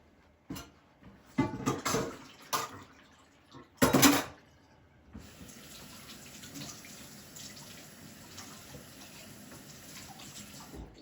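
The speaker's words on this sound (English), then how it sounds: "I usually like to begin with a blank shot just to warm things up." Close clatters of cup and spoon give way to the steady hissing flow of a Breville Oracle Touch BES990SST espresso machine running a blank shot of hot water.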